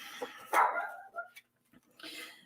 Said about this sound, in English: Oops, there go the dogs.